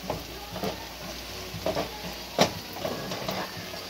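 Seasoned ground meat with garlic powder frying in a pan for chili, soft sizzling under repeated scraping stir strokes at an uneven rhythm, close and moderately quiet.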